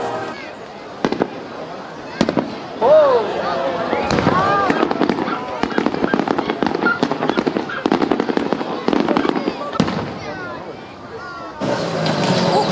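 Fireworks in a video game pop and crackle in rapid, irregular bursts over the streets of Palermo, with whistling rockets rising early on and a dense, loud barrage throughout.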